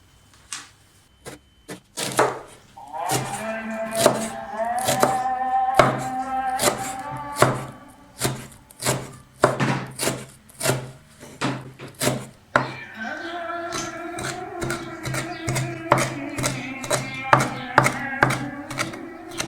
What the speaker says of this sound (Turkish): reyhanlarımızı ince ince kıyıladık arkadaşlar.